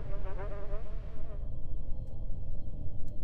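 A steady insect-like buzz of a fly in the horror game Obscuritas hums over a dense low background drone, continuous and fairly loud with no talk.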